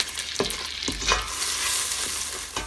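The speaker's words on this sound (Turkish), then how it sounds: "Şimdi üzerine silme bir tatlı kaşığı karbonat atıyorum. Ve karıştırıyorum" A spoon works through bubbling butter caramel for popcorn just after baking soda goes in. Several distinct scraping strokes sound over a continuous frothy sizzle, close and fairly loud, with no voices.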